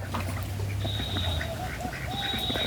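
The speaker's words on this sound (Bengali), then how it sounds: "হ্যাঁ, এগুলো সব ডিম পাড়া হাঁস" Laying ducks at a pond bank on a small farm quack in several short, nasal calls close by, over a constant outdoor background.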